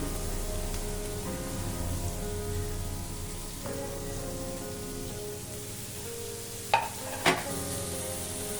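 Chopped onions and green chillies sautéing in coconut oil in a pan give a steady, even sizzle throughout, with two sharp utensil knocks near the end.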